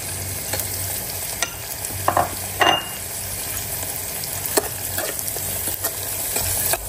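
Lemon slices and cloves being stirred in a pan, with a few scattered scrapes and clinks of the spoon over a low steady background hum and no voices.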